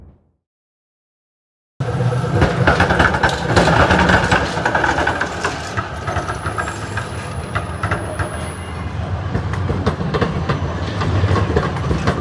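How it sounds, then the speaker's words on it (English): Melbourne tram running along its rails, starting abruptly after a moment of silence, then a steady close rumble with clickety-clack rhythm and a brief high squeal from the wheels partway through. "Now it's time to jump on my Bunnings warehouse tram."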